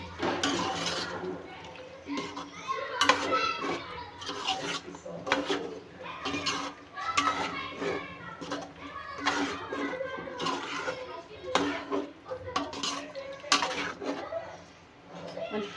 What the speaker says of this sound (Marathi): तर परत याला मिक्स करूया.